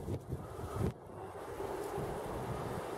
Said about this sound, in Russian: у нас очень сильный ветер